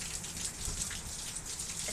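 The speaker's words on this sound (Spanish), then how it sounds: "Está lloviendo todo y re fuerte." Heavy rain pouring steadily during an electrical storm in Olavarría, a dense continuous patter of drops striking surfaces, close and even throughout with no voices.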